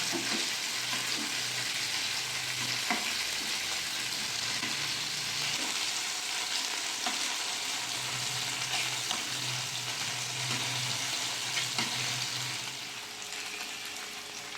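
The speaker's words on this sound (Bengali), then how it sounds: "হালকা ভেজে নেব।" Paneer pieces lightly frying in a pan for chilli paneer give a steady, dense sizzle with faint stirring knocks throughout, with no talking.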